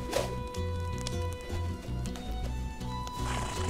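A horse in the video game Outlaws of the Old West, its hoof clip-clops and snorts sitting over a steady, looping game music bed.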